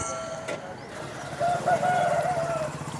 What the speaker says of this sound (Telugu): ఇక్కడ కొన్ని పుంజులు అయితే ఉన్నాయి